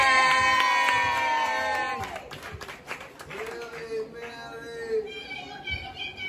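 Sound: crowd cheering for performer

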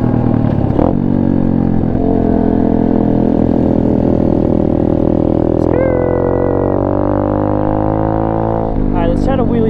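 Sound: Apollo RFZ Chinese pit bike engine revving for wheelie

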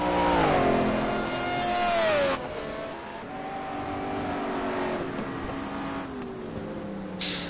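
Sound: Ford Martek race car engine on track

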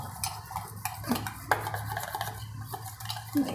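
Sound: stirring batter for wafer bhajiya

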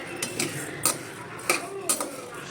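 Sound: roasting basmati rice, stirred in a pan

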